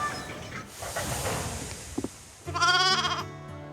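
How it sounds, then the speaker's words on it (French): Sheep bleat loudly nearby in a farmyard scene, with a sharp burst of bleating following a stretch of rustling, shuffling noise and a couple of quick knocks. "Ça alors, mes moutons!"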